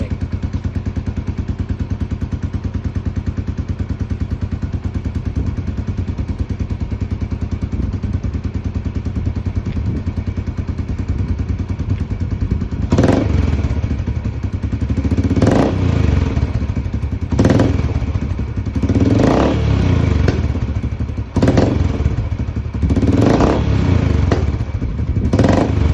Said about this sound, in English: start the engine and make sure there are no air leaks on the exhaust pipe